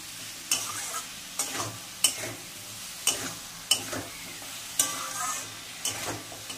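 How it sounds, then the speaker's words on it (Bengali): A spatula scrapes and knocks against a pan in a slow, roughly regular rhythm as prawns are stirred, over a continuous background sizzle of frying. "চিংড়ি মাছটা দিয়ে ভালো করে নাড়াচাড়া দেবো"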